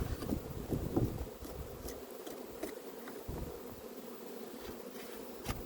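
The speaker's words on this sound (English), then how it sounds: "That's a big bee." Bees buzz faintly around a hive worked for beeswax and propolis, with a soft, wavering drone and some outdoor wind noise. A few louder, closer passes stand out near the start.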